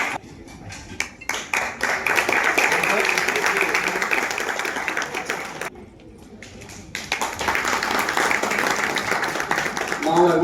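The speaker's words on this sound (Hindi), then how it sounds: "जोरदार तालियों के साथ" Loud applause from an audience at the inauguration ceremony of the Thane Doctor Foundation, dense clapping that runs for several seconds, drops out briefly, then returns strongly.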